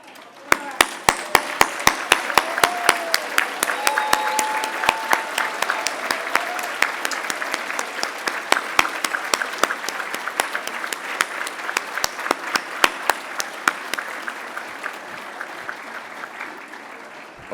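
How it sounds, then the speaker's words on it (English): An audience at a service excellence awards ceremony applauds the awardees, with continuous clapping lasting many seconds and distinct individual claps standing out, gradually thinning toward the end. "A well-deserved round of applause."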